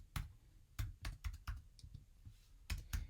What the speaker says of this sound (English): And I'll type this command.